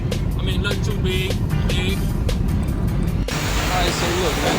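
A 2019 Chevrolet Camaro SS with its stock exhaust gives a low, steady rumble throughout, partly under someone talking.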